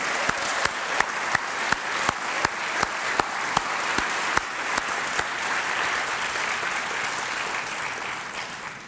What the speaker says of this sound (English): Justice Ann Burke, a round of applause